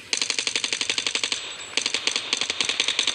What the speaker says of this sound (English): Cordite can actually be really good because it shoots fast, has a pretty decent damage.